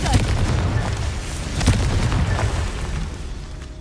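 Spell explosions from the Confringo and Incendio charms in Hogwarts Legacy: a steady low rumble with several blunt booms and bursts, the strongest near the middle, loud and close, with no talking.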